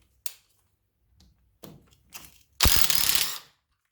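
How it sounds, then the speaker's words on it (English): A PARKSIDE PDSSA 20-Li A1 cordless impact driver drives a screw into hard concrete: a few short clicks and handling taps, then a loud burst of rapid impact hammering lasting about a second before stopping. "hard concrete, and let's screw this. And you can see very easy, it goes all the way inside."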